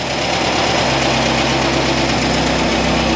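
Air-cooled VW engine with a Solex H30/31 PICT carburetor idling at about 900 to 1,000 rpm, a steady, loud, close rumbling hum with even pulsing throughout, no talk.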